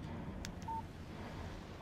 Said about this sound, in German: Eine SMS von Barry